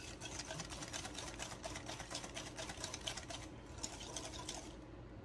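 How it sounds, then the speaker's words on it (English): Chocolate chess pie filling is whisked in a bowl, giving fast, steady rhythmic clicking and sloshing strokes heard up close for several seconds without talk. "now the key here is just to get it whisked really well."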